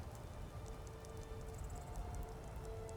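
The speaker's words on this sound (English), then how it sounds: "At least the rain provides some cover." Rain falling steadily in the video game Skyrim, a soft continuous hiss of drops on surfaces with faint patter, alone and fairly quiet.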